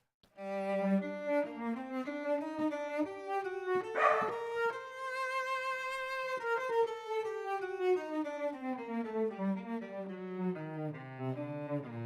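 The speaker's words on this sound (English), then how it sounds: "As you can hear, yes, the dogs are still around." Sampled dogs, likely from an orchestral sample library, yip and bark in quick bursts against sustained melodic tones, playing steadily throughout and close.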